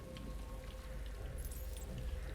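Rain falls on the Citadel map in the StarCraft Evo mod, a soft continuous patter of drops with faint scattered splashes, low in level and steady throughout.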